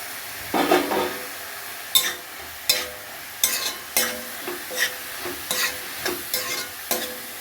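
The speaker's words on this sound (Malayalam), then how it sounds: "ഇഞ്ചി, വെളുത്തുള്ളി, കറിവേപ്പില ഇത്രയും കൂടി ഇട്ട് കൊടുക്കാം" Ginger, garlic and curry leaves fry in a pan under a soft, steady sizzle. Sharp scraping stirs punctuate it at irregular intervals, with light clinks of utensil on the pan.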